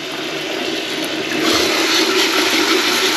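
Water gushes steadily through a car air intake filter from a Eurocompulsion V4 induction system during rinsing, a loud, continuous rushing that swells slightly halfway through.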